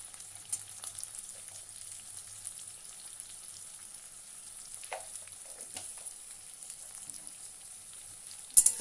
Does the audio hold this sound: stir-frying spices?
yes